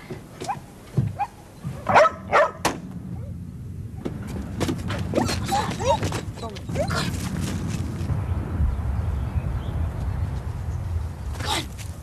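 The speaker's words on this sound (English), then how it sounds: "Look, call off your dog's Tyso." Several dogs barking and yipping outdoors in a 1973 television drama, sharp close barks early, then excited whimpers and yelps mixed with people talking and a rushing background.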